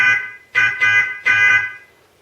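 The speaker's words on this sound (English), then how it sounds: "I pre-recorded horns from trucks" Pre-recorded truck horn looped through a microcontroller, amplifier and small speaker on an RC unit: three short, buzzy, nasal honks in quick succession, loud and close, with a brief fading tail.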